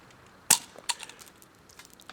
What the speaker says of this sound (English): we're going to try the stick grenade again